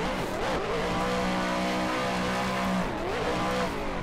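Vicari VDC RTR Spec 5-D RC drift car flicked in fourth gear, a high whining motor that rises, holds and dips with the throttle, close and steady with light tire scrub.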